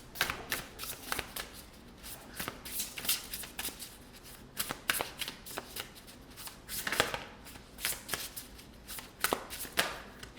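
Oracle cards being shuffled in a steady run of crisp riffles and soft slaps, close and fairly quiet, with no voice over them.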